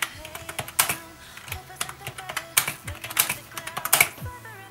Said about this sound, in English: So I'm gonna type something on this computer.